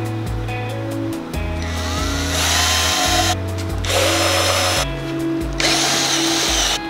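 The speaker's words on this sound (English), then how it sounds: "drill two holes so that I can fit a screwdriver through the" A power drill bores two holes during a car audio installation job, whirring loudly in several bursts with brief pauses and shifting pitch as it spins up and bites in.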